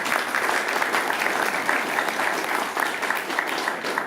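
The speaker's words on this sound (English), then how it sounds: "go ahead and applaud that" Town hall meeting audience applauding steadily for the whole stretch, a loud, continuous patter of many hands filling the room without a break.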